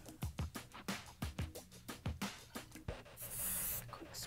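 Hair being curled and set, with a series of soft rhythmic rustles and thumps followed by one short, airy hiss of hairspray near the end, close by and with no talking.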